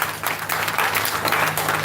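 Applause at a handing-over ceremony for a Hurricane Beryl recovery project, a dense, steady wash of clapping from a gathered audience that fills the whole moment without a break.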